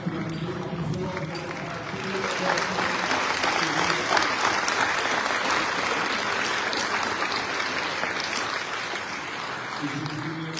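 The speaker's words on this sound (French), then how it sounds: "on peut l'applaudir encore une fois" Sustained audience applause fills a formal gathering led by the Comoros ambassador at UNESCO, dense steady clapping building after a couple of seconds and holding loud to the end, with faint voices underneath at the start and finish.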